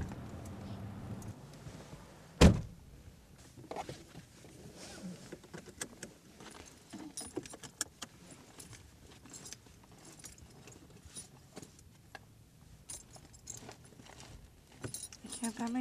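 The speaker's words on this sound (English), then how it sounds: "I found my keys." Keys jingle and rattle in small bursts inside a car, with a sharp clack near the start, and speech is faintly present around the metallic clinks.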